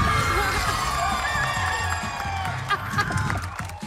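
A studio audience on a game show claps and cheers steadily, with a dense, sustained wash of applause and music mixed in and a few louder bursts near the end.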